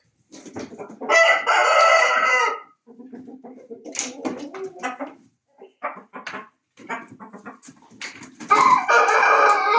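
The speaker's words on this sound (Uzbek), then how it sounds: "Ichkarida xo'rozlarni ham ko'rsataman," Roosters crowing loudly and close by, with two long crows at the start and end, clucking and chattering chickens between them, and a dog barking briefly.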